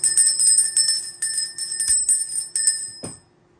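A bright, sustained bell rings loudly and close, tolling repeatedly in a steady rhythm with a shimmering ring, then cuts off into near silence.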